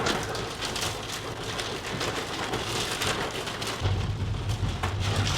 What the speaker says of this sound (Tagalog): Oh, Daddy, ayan ang yelo.